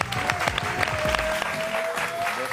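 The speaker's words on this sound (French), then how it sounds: "je veux un tonnerre d'applaudissements pour lui" Studio audience applause greeting comedian Laurent Barra on a TV show, a moderate wash of clapping with music playing underneath, fairly quiet and even throughout.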